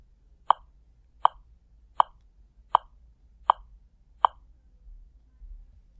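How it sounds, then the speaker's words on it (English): Online metronome clicking at 80 BPM: six crisp, evenly spaced ticks, close and clear over near silence, with no talking. "So this would be 80 BPM, which would sound like this."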